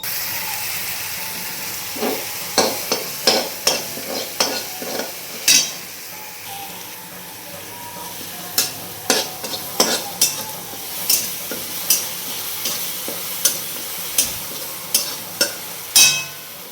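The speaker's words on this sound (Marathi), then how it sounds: "आता जिरे टाकते त्यामध्ये तेलामध्ये टाकते आणि चांगलं परतून घेते" Cumin seeds frying in hot oil after mustard seeds have popped, stirred steadily with a spoon. Repeated close clinks and scrapes against the pan ring out over a constant low sizzle.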